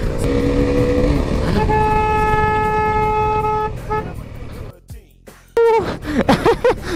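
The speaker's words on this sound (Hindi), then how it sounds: "ओह इसकी हॉर्न बहुत प्यारी है" A KTM motorcycle horn toots in a sustained, steady honk lasting a few seconds, followed by a shorter blast, with engine and road noise underneath and brief voices near the end.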